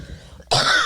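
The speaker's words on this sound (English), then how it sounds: "You're making me cough." A single sharp cough bursts out loud and close after a brief low murmur, a throat-clearing hack brought on by laughing.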